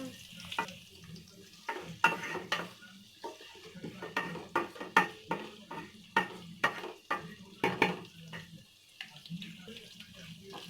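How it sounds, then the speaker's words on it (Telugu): Onions and green chillies fry in a pan while a spatula clacks and scrapes against the metal in sharp, regular strokes over a faint background sizzle. "సో ఫ్రెండ్స్, ఇప్పుడు మన ఈ చిల్లీ ఆనియన్స్ బాగా ఫ్రై కావాలి."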